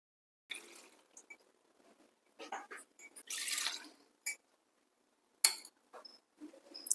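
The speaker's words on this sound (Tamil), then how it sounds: "நாம் எடுத்த மாவு அளவை விட 2 மடங்கு அளவுக்கு நம்ம தண்ணி ஊற்றணும்" Water poured into rice flour in a pot for kozhukattai, heard as scattered drips, splashes and small clinks in several short bursts with quiet gaps, close and fairly soft.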